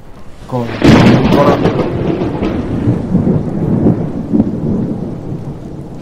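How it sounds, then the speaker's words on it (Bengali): A loud, close thunder crash from a nearby lightning strike breaks over heavy rain in a storm, the sharp crack giving way to a long rumble with the rain continuing underneath. "এবার যেন বাড়ির খুব কাছেই বাজ পড়ল"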